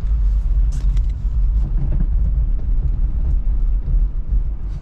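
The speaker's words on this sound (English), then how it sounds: "you can do turns like this and skid out." A Tesla Model 3 turns and slides on a snowy road, heard as a loud, steady low rumble of tires and road noise with no engine note. No talking.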